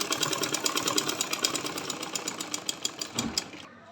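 A sewing machine stitches a curved seam on panties, giving a fast, even, close mechanical chatter of needle strokes that slows slightly through the turn and then stops abruptly near the end.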